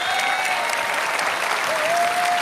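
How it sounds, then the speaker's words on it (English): Steady, dense applause from a town hall crowd in Bakersfield, loud and continuous throughout, with a faint voice mixed underneath. "Let's give her a round of applause"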